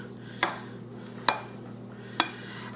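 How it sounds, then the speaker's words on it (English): A spoon punches down risen Semmel roll dough in a bowl, three evenly spaced sharp knocks over a low steady hum. "I'm just going to punch it down with a spoon."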